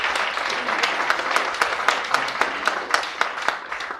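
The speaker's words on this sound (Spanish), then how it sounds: "Denle un aplauso a Jesucristo, por favor." A church congregation applauds steadily for several seconds, a dense wash of clapping with sharper individual claps standing out near the end.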